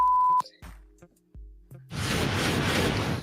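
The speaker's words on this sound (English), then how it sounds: "when you hear the beeps, she's not cursing." A steady censor bleep tone masks a spoken name, cutting off abruptly, followed by brief clicks and then a loud burst of noisy sound.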